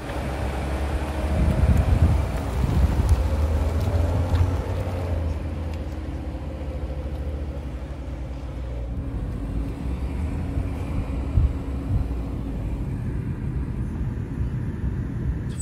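A new BMW 760i G70 sedan drives on a road, heard as a continuous low rumble of engine and tyre noise with a slight swell early on, steady and without speech.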